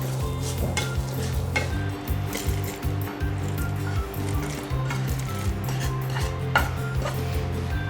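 Poppy seeds and coconut roasting in a pan for a spice mix, with a continuous soft sizzle and repeated stirring scrapes over steady background music.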